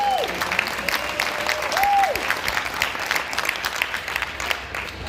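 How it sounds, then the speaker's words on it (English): An audience at a cannabis medicine panel of doctors at The Emerald Cup 2019 applauds steadily for about five seconds, a dense even wash of clapping with a few faint whistled tones over it. "can we give them a round of applause?"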